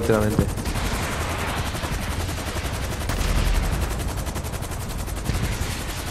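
Rapid, continuous automatic gunfire in GTA V rattles steadily for several seconds, dense and unbroken, with a voice faintly underneath.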